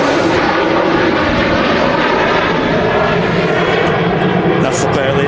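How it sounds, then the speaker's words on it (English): A Ryanair airliner takes off at Manchester Airport, a steady broadband engine roar that holds loud and unbroken for about five seconds while a voice talks over it. "We've got Ryanair service now taking off."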